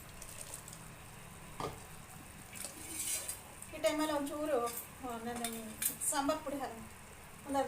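A spoon stirs a mixed legume curry in a pan, with soft scraping and clinks that go on under a person talking in the second half.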